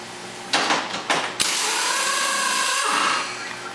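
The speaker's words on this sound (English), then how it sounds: "Undo my two rear bolts first." Power tool undoing the rear bolts on a snowmobile: two short whirring bursts followed by a longer continuous buzzing run that fades out, loud and close.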